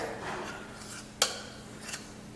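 A metal spoon scrapes oatmeal from a metal pot: quiet, faint scraping with one sharp clink of metal on metal at the midpoint and a softer knock near the end, no voices.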